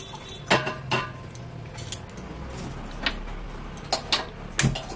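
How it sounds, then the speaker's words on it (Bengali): A metal kadai (wok) is set on a home kitchen stove while a Bengali bean curry is prepared, giving several close metallic clanks and knocks spaced apart over faint background hiss. "কড়াই বসাচ্ছি।"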